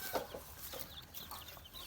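Nearly two-month-old Thai game-breed chicks clucking in short, repeated chirpy calls, fairly close and moderately loud, with no talking.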